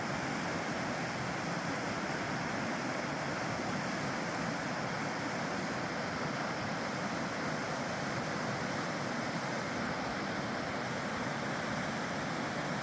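Waterfall on a section of the Poudre River roars as a steady, dense rush of falling water, loud and continuous throughout with no voices.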